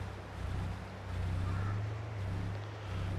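A steady low diesel engine drone from a vehicle in Farming Simulator 22, continuous and even, with a faint wash of broadband noise above it and no other distinct events.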